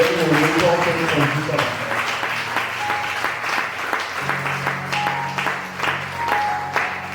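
A church congregation applauds and cheers to acclaim the Lord, with sustained clapping and voices throughout and a held organ or keyboard chord joining partway through.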